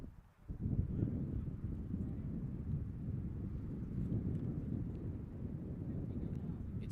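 Wind blowing across an outdoor soccer field on an overcast September day, a steady low rumbling buffet on the microphone that persists throughout without pause.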